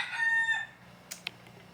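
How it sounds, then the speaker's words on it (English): A rooster crows once close by, a loud harmonic cock-a-doodle-doo lasting about half a second, followed by quiet and a couple of faint sharp clicks. "The chickens are confirming, but they are very annoying."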